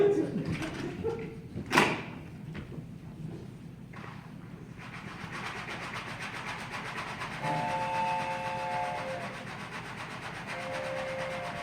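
A train sound effect in a radio drama set in 1943 Portland, Oregon: a sharp hiss and clatter, then a steady rolling rumble of wheels on rails with faint squealing tones, building slightly louder later.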